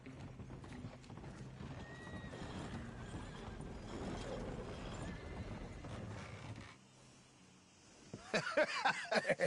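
A horse in Red Dead Redemption 2 clops along over a steady, faint mechanical rumble; the ground noise cuts out, then a burst of sharp, rapid hoofbeats and a short whinny finish the moment, with no voices.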